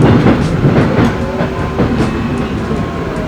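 A train rolls along rails in Seoul with a steady, loud rumble and rhythmic clickety-clack of wheels over track joints, heard from close up inside or beside the carriage.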